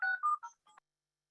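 Several short telephone keypad tones beep in quick succession while a meeting ID is being entered. The tones are clear and close, and nothing else is heard.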